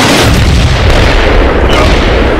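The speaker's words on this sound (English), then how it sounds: "And my artillery should start falling momentarily." Artillery shells burst in the Combat Mission wargame, a loud, continuous rumbling boom that fills the whole stretch with heavy, distorted low-end roar.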